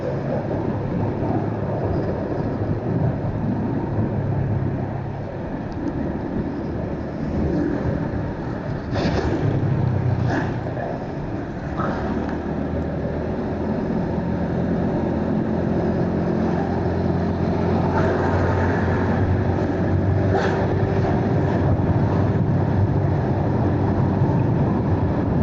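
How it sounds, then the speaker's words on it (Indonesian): Road traffic with cars and trucks along a street in Curug, Tangerang, a steady roar of passing vehicles heard from a moving rider, with wind buffeting the microphone and swells as vehicles pass. "Dan di sini masih banyak mobil truk teman-teman"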